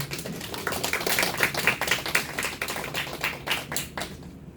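A congregation at a church youth service applauds with dense, fairly loud clapping that swells and fades in waves over several seconds, with no talk over it.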